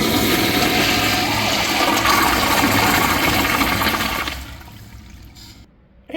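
A first-generation American Standard Jetbrook urinal flushes with a loud, close rush of water for several seconds, then drains away to a faint trickle before a last short gurgle.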